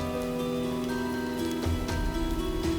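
Heavy rain pours down steadily, a dense close patter on surfaces that continues without pause, with a faint tonal hum beneath and no voices.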